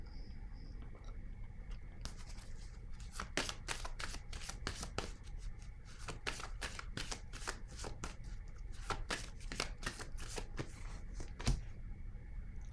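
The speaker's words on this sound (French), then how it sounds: "Je vais piger une carte ici." Tarot cards shuffled by hand in a quiet room, a steady run of crisp riffling flicks and soft slaps lasting several seconds, close and alone with no talking.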